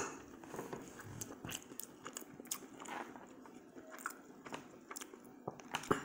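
Close, crisp biting and chewing while tasting a bowl of spaghetti and meatballs, a series of soft wet crunches and mouth sounds at an uneven rhythm, fairly quiet, with no talk.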